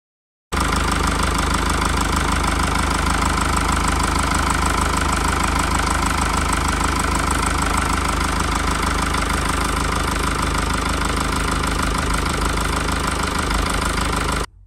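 A Mercedes OM654 220d diesel engine runs steadily at idle for about fourteen seconds, loud and close, with a constant rumbling drone and a faint rattling knock, then cuts off abruptly.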